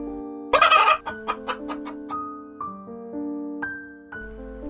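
Cartoon-style chicken clucks in a quick series of short, tonal bursts over a sustained musical backing, clear and close.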